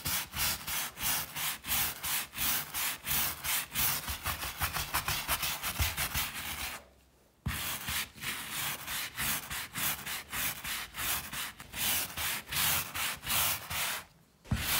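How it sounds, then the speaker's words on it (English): A stiff brush scrubs an old, tough stain on carpet treated with vinegar, in steady rapid back-and-forth strokes that run on continuously with two brief pauses, close and fairly loud, with no talking. "The next step in the process is to basically rub the area with a brush."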